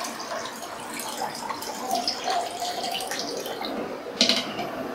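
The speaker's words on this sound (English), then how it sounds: "We're going to pour out the fixer." Fixer solution poured out of a film developing tank, a steady trickling, splashing flow of liquid lasting several seconds, close and moderately quiet, with a small extra splash near the end.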